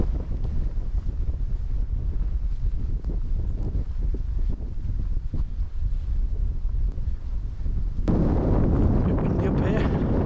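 Strong wind on an exposed hilltop at Windgather above the Cheshire plain buffets the microphone in a steady low roar, gusting harder and brighter near the end.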